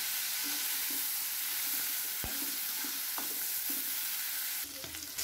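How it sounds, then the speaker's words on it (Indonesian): Food fries in a pan with a steady close sizzle while it is stirred, and a few scraping clinks and thumps of the utensil come through over the hiss. "Digoreng dulu."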